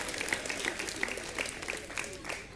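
A church congregation gives a round of applause for the children, a modest scatter of clapping heard fairly faintly, with some voices mixed in.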